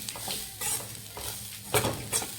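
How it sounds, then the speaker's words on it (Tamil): Chopped onions sautéing in a pan for chicken biryani, soft frying crackle with a spoon stirring and scraping in uneven bursts, a few louder clinks of utensil against the pan, no talking. "இங்கே பாருங்கள் வெங்காயம் நல்லா வதங்கிட்டு"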